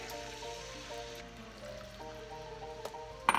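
Water streaming into a cooking pan during a home recipe of chicken, rice and veggies with thyme, a steady trickling pour over a soft background hum, close and moderately quiet, ending in a brief clatter.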